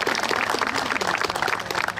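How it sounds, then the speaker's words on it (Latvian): Audience applause at an outdoor protest drive gathering in Latvia, a short burst of dense clapping from a crowd, moderately loud and even throughout. "aplausi Kristīnei"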